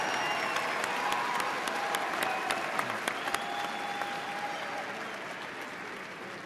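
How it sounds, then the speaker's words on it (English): Crowd at a 2013 Virginia Tech fall commencement applauding for the College of Liberal Arts and Human Sciences candidates, a broad, even wash of clapping, somewhat distant, with a few sharp claps standing out and a faint whistle or cheer. "Let's give a round of applause to the candidates from the College of Liberal Arts and Human Sciences."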